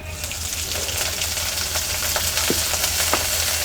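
Chopped onion greens hit hot mustard oil in a heated kadai, producing a close, continuous sizzle with scattered crackles and pops. No voices are heard.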